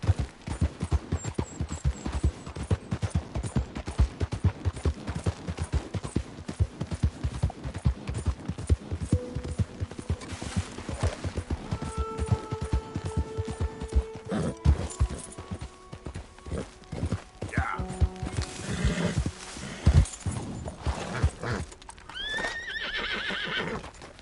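Galloping hooves of a horse in Red Dead Redemption 2 pound in a fast, steady rhythm, with whinnies and neighs breaking through near the end and almost no talk over it.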